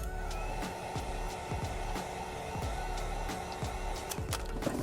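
A heat gun blows hot air onto chrome delete film on a Kia EV6 side skirt, a steady airy whoosh with faint clicks and creaks over it, and no speech.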